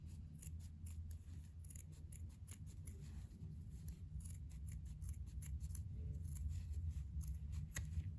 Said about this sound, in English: you can always just take a pair of scissors and trim it down a little bit